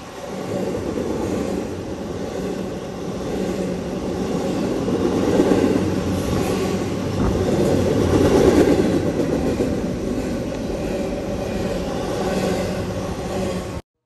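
A freight train with DPU locomotives rolls past near the Jackson Street Bridge, a loud continuous low rumble and wheel clatter that swells slightly midway and holds steady throughout.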